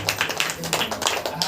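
A church congregation at a Saturday prayer meeting claps hands in a steady rhythm, with voices singing and speaking over the clapping throughout.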